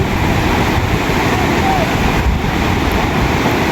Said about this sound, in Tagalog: Ay, malalaki ang alon.